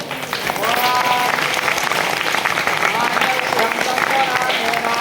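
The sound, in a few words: applause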